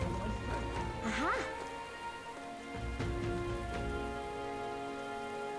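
Rain falling in the video game Metaphor: ReFantazio, a continuous hiss of drops on surfaces layered under game music and sound effects, with a few sweeping tones and chimes cutting through.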